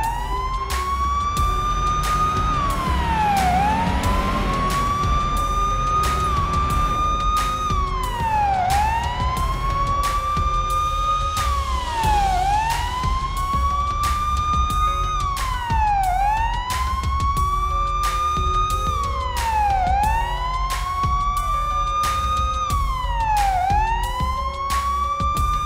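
Police car siren from the Police Simulator: Patrol video game, a loud continuous wail rising and falling in repeating cycles over a steady engine rumble, with no talk.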